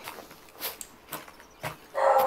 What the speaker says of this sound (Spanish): ¿Me escucho un perro?